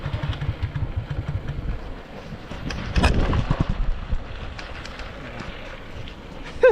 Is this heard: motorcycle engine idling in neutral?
yes